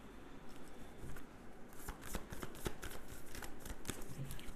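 Tarot cards being shuffled and handled during a reading, a steady papery riffling with short sharp flicks and snaps throughout, close and fairly quiet, no voice.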